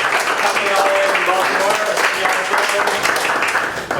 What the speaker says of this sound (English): let's give them another round of applause for coming all the way from